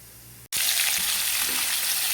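Cumin and mustard seeds hit hot oil for a tomato huli, and after a brief quiet moment a loud, dense sizzle bursts up and keeps going steadily up close.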